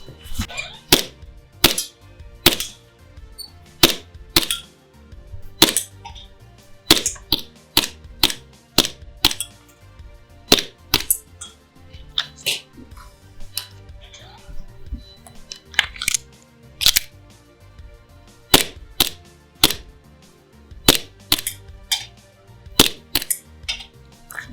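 An ICS Korth PRS airsoft gas blowback pistol fires about thirty sharp, snappy cracks, some in quick pairs and others spaced a second or two apart, each shot loud and close with brief clacks of the slide between.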